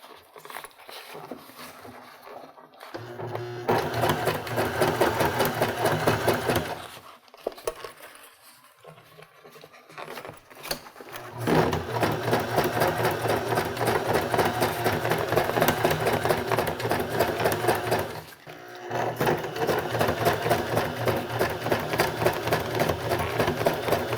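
Sewing machine top stitching a cork zippered box pouch, running in long steady bursts with rapid even needle chatter, pausing briefly between runs, close and loud.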